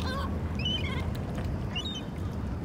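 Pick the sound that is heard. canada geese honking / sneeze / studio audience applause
canada geese honking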